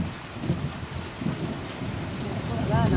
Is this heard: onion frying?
no